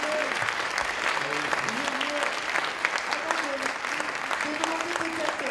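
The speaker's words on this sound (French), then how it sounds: "on peut déjà applaudir vraiment une dernière fois" A conference audience applauds, dense sustained clapping from a crowd filling the room, while a voice talks over it.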